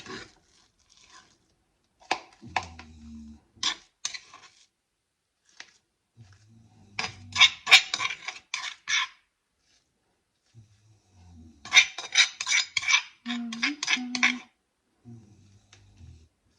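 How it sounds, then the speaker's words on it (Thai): Spiced pla ra bong, a Thai fermented fish paste cooked with tamarind, is spooned and scraped into a storage jar in a few irregular bursts of sticky scraping and clinking, with quiet pauses and low murmurs between them. "ให้ปลาบองเขาก็จะตักใส่กระปุกไว้จ้ะ"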